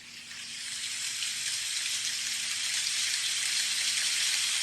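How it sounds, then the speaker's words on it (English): A light rain recording plays from an iPhone sleep app, giving a steady, even hiss of fine rainfall that swells slightly in volume and then holds, with no voices. "they have like light rain. Let me turn it up for you"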